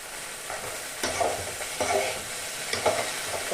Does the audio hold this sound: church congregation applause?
no